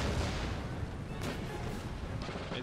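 Heavy artillery booms roll continuously through an American Revolution battle game, dense low rumble with a couple of sharper cracks, loud and close, no talk over it.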